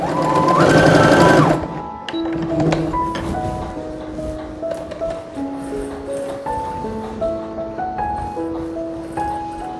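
An electric sewing machine stitching hooks onto fabric: a fast, loud whirring run at the start, then slower, quieter stitching in short bursts and pauses.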